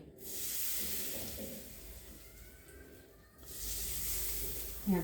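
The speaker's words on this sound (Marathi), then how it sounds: "आता याच्यावर फोडणी घेते" A steady, loud hiss of tempering sizzling in hot oil for dhokla, breaking off briefly and then surging back in just as strongly.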